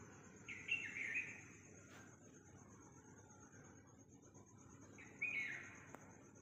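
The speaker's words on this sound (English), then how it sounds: "The birds are awake earlier than humans." Birds chirping at 4:30 in the morning, two short bright bursts of tweets a few seconds apart over a quiet hiss, fairly faint and without any voices.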